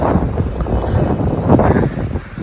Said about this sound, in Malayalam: നല്ല കാറ്റുണ്ട് കേട്ടോ ചൂടില്ല നല്ല നല്ല തണുത്ത കാറ്റ്